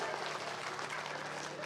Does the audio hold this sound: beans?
no